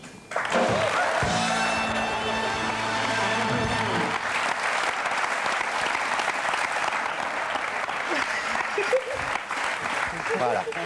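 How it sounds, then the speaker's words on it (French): Sustained applause from a TV studio audience on the French talk show Nulle Part Ailleurs, loud and dense throughout, with a brief musical sting near the start. "On fait durer les applaudissements exprès."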